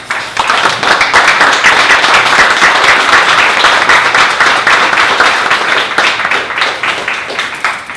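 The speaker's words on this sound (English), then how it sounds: "can you please stand and give Jeff a round of applause?" An audience at a Dallas startup pitch breakfast gives Jeff a standing round of applause, with dense, steady clapping that fills the room from start to finish and tapers slightly at the end.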